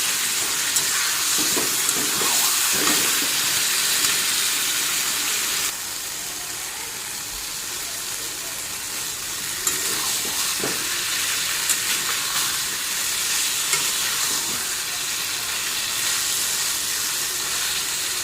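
Fried food is stirred with spices in a hot, oily pan, giving a loud, steady sizzle throughout, broken by soft scraping clicks of the stirring spoon and no speech.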